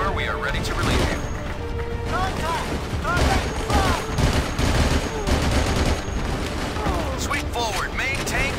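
Gunfire in the video game Battlefield 2: Modern Combat, dense bursts of rapid rifle and machine-gun shots with whizzing ricochets, loud and nearly continuous, with radio-style voices talking amid the shooting.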